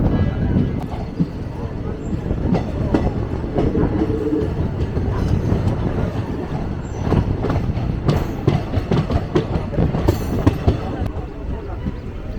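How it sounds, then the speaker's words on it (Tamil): A Madurai–Sengottai passenger train runs along the line, slowing down, with a loud, continuous rumble of wheels on rails, steady clatter and occasional metallic squeals heard from inside the carriage, and no clear voices. "வண்டி வந்து ஸ்லோவாக ஆரம்பிச்சிருச்சு."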